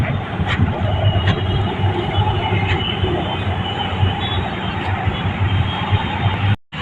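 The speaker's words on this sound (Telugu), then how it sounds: "చూడొచ్చు గైస్ మెట్రో" A metro train passes close by a cricket ground, a loud steady rumble with wind buffeting the microphone, holding level throughout before cutting off abruptly at the end.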